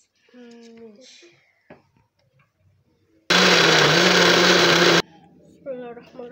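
An electric blender whirs loudly for nearly two seconds, mixing ingredients for a salted herring and fish dish, with someone talking before and after it runs.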